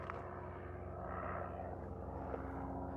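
A drone hums steadily out in a canyon campsite, with a constant droning tone over low outdoor rumble and no talk.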